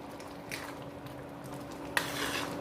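Raw mango murabba bubbling in a pot is stirred continuously, with soft scraping strokes of a spoon against the pot over a low simmering hiss and one sharper clink near the end.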